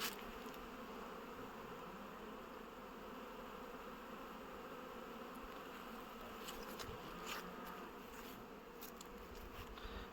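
Honey bees at a spring apiary, foraging and carrying pollen, fill the air with a steady, dense working hum, some buzzing past close by.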